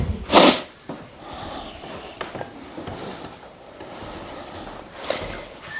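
One sharp sneeze bursts out near the start in a quiet room during a yoga class, then soft movement noises follow.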